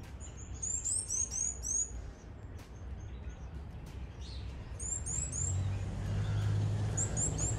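Wild birds chirp and whistle in repeated bursts at sunrise in Gambia, the calls clear and fairly close over a steady low rumble of outdoor background, with no talking.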